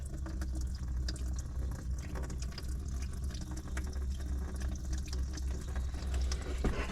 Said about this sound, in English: now we have coolant dripping out